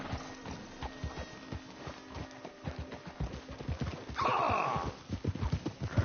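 Horses in the video game Red Dead Redemption 2 clip-clopping steadily along a trail, with a loud neigh partway through, set over an outdoor ambience.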